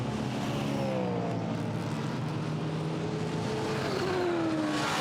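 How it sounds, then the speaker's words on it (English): A V8-engined GT4 racing car at the Misano circuit roars past with a loud, continuous engine note, its pitch gliding downward as it goes by, with no voices present. "There's the 69 V8 racing car of Marcel Nuren."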